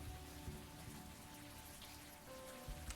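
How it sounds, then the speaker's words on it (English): Steady rain falls in Unavowed, a continuous even hiss with soft patter and a low rumbling bed, fairly quiet and unbroken throughout, with no voices. "We will learn nothing standing here in the rain."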